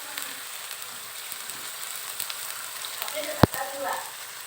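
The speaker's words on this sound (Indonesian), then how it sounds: "sekarang kita tumis bumbunya. Kasih minyak sedikit." Spice paste for yellow-spiced mackerel sautéing in a little oil: a steady close sizzle and crackle with a sharp knock of a utensil near the end and faint stirring sounds.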